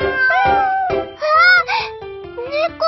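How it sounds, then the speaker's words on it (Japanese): Several cats meow at a door, a quick series of close, drawn-out, rising and falling cries, some overlapping, with no talk over them. "猫がいっぱい"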